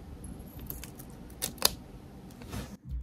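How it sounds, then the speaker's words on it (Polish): Scissors snip through a jelly stick snack packet at close range, giving a couple of brief, sharp cuts around the middle followed by a soft crinkle of the wrapper in an otherwise quiet room. "Pomogę sobie nożyczkami."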